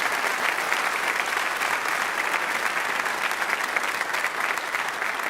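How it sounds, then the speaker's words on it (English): Steady, dense applause from an audience at an auditorium dedication ceremony, loud and continuous throughout with no pause. "How about a round of applause for that?"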